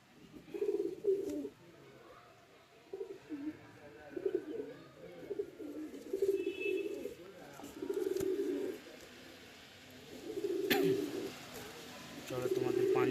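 Pigeon cooing in short repeated bursts from a racing tournament bird, moderately near, with a pause between phrases and faint background noise; no clear talk over the calls.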